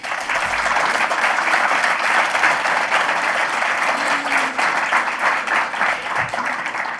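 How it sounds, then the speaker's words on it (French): Audience applause at an award ceremony for literature prizes, a full, even burst of clapping from a crowd that holds steady for about seven seconds. "Je crois que toute cette équipe a bien mérité quelques applaudissements."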